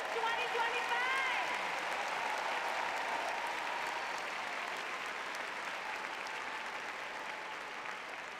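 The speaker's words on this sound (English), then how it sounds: "huge round of applause for the class of 2025." A large commencement crowd at Pauley Pavilion, UCLA, applauds the class of 2025 in a long, dense roar of clapping, with a few voices at the start and the applause slowly thinning toward the end.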